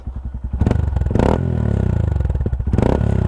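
A Honda Grom motorcycle fitted with a Yoshimura exhaust and dB killer revs close up, its choppy idle pulses rising into two sharp throttle blips with a crackling, raspy note between them.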